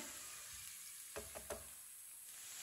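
Chopped onion frying in a pan, a faint, steady sizzle with three light knocks of a utensil against the pan partway through.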